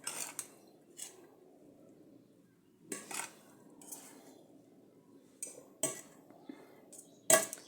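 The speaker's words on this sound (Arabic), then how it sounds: "صافي انا غنبقى نحرك البنات بحال هكا حتى تندمج لي السكر ديالي مع الزبده" Seffa vermicelli is stirred with sugar and butter in a pot, giving intermittent clinks and scrapes of a utensil against metal in short bursts with quiet gaps between, ending in one sharper knock.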